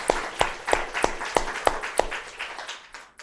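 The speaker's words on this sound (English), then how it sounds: "I want to give a round of applause to MGH for the new building." A single pair of hands claps in a steady, evenly spaced rhythm, about ten crisp claps fading out, close and fairly dry rather than a full crowd.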